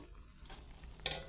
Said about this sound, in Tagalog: Ilagay na natin yung sitaw.